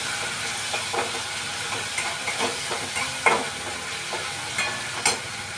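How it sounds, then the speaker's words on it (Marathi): Tomato and coriander frying in oil, a continuous sizzle with occasional stirring scrapes of a spoon against the pan. "आता टमाटा चांगला तेलामध्ये परतलाय जे गळून गेले चांगला त्यात थोडीशी कोथंबीर इथं तेलामध्ये घातली"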